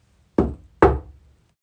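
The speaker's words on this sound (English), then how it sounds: "there was a loud knock on his front door" Two loud, sharp knocks on a front door, spaced about half a second apart, close and isolated with silence around them.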